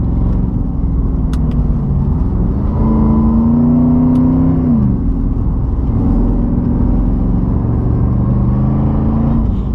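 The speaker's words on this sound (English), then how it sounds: "Oh my gosh, this car sounds so fantastic." A Mercedes-Benz R63 AMG's 5.4-liter supercharged V8 revs and pulls steadily, its deep growl rising and falling in pitch as it accelerates, loud and close throughout.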